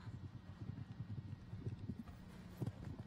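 Hoofbeats of a horse with a long stride on an outdoor show jumping course at a World Cup event, a rapid steady thudding clip-clop, moderately close and unbroken by talk.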